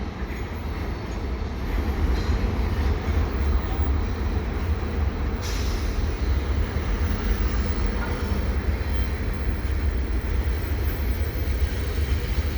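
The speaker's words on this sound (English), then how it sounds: "We got two trains!" Two westbound CN freight trains pass together at Falaise St-Jacques in Montreal, a steady, close, heavy rumble of wheels and wagons that holds for the whole stretch, with a few faint higher squeals.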